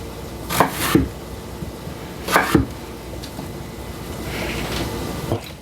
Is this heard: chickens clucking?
no